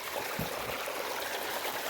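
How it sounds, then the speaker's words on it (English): Water runs from an 18-inch corrugated pipe through a 4-inch pipe into a drum, a steady, soft outdoor stream with a constant rushing flow and no voices. "He goes in this 18-inch corrugated pipe and sends the water through this 4-inch pipe into that drum."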